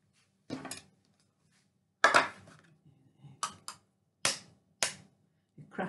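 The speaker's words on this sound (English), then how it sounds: "You crack the egg." An egg is cracked for a savoury pie, heard as a handful of sharp, close taps and clicks against a hard edge, separated by short quiet gaps.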